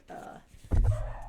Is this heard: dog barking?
yes